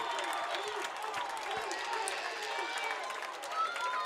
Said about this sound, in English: PHS crowd is coming alive here on 4th down